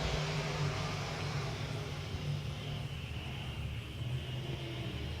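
IMCA modified race cars running at RPM Speedway, a steady, dense engine roar from the pack heading down the back straightaway, heard from a distance with no voices.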